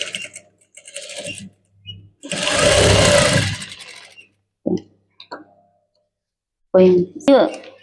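A sewing machine stitches a topstitch seam on a maggam work blouse in one steady burst of whirring, framed by brief handling clicks and short bits of talk.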